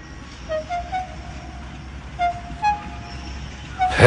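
A steam engine in a Thomas and Friends railway story lets out several short whistle toots over a steady low rumble, spread across a few seconds, with a louder burst right at the end.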